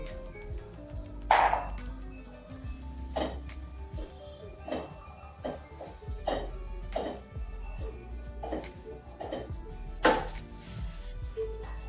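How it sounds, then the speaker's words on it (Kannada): Grated coconut tipped into a bowl while making coconut burfi on a gas stove, with a series of sharp clinks and taps of utensil against the bowl, spaced irregularly and close by. "ತುರಿದಿಟ್ಕೊಂಡಿರೋ ಕೊಬ್ಬರಿನ ಈ ಬೌಲ್ನಲ್ಲಿ ಹಾಕ್ಕೊಳ್ಬೇಕು"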